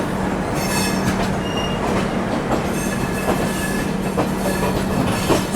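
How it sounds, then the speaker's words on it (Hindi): A Bilaspur to Ernakulam superfast express train stands at or rolls through a station, with a loud continuous rumble of rail cars, rhythmic wheel clatter and occasional high squeals from the wheels, and no voices. "और सामने खड़ी है बिलासपुर टू एर्नाकुलम।"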